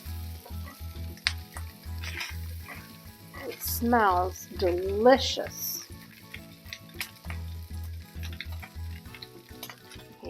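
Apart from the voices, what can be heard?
carnitas pork sizzling in cast iron pan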